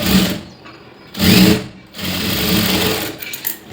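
An electric sewing machine stitches a straight seam on a blouse. The motor runs in close, loud bursts that start and stop, with a steady whir in the final stretch.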